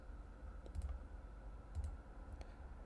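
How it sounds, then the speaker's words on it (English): Computer mouse clicks while working in AutoCAD, a few quiet, sharp clicks in pairs against faint room hum. "or clicking on this little icon that appears"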